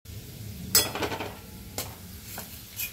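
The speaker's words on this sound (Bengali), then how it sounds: "তাহলে আমি বেরেস্তাটা ভেজে নিয়ে আসছি" Onions frying in a pan for birista over a high-to-medium flame, with a soft steady sizzle, a clatter of a stirring spoon against the pan near the start and a few lighter clinks later, no voices.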